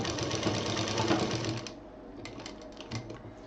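A sewing machine stitches velcro onto a handy pouch with a fast, loud, close whir, then slows into a run of lighter, separate ticking stitches.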